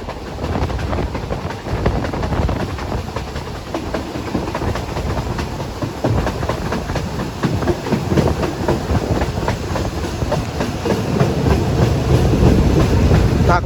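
Passenger train 445 runs on the rails between Lang Suan and Surat Thani in Thailand, heard from on board as a loud, continuous rumble with rhythmic clickety-clack of wheels over the track joints.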